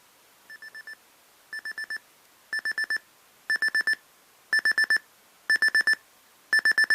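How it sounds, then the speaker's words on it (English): A Sangean CL-100 AM/FM/weather radio alarm clock buzzer sounding in seven short bursts of rapid beeps, each burst a little louder than the last, with silence between. "this is what the buzzer level would sound like"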